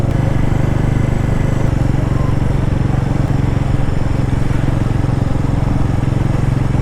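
Bajaj Pulsar NS 400Z motorcycle running in road mode, its engine giving a steady, close, low throbbing hum with no talk.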